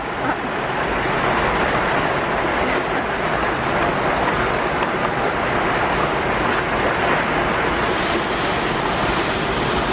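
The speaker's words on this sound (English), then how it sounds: "It went under the waterfall" A waterfall where a 3D-printed tow water turbine is being tested gives off a loud, steady rushing roar that stays constant throughout, heard close with no talking.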